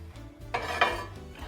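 Metal pans clank and scrape as they are shifted around near a kitchen stove, two or three close knocks over a low background hum.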